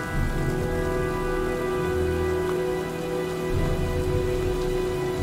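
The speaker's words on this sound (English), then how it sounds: "looks like a storm's coming" Steady, heavy rain in the game Heavy Rain pours as a constant hiss of drops hitting surfaces, with a low droning hum underneath and no voices.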